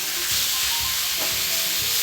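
Steak cooked to medium well sizzles steadily in a hot pan, a continuous close crackling hiss with faint stirring or shifting sounds, no voices.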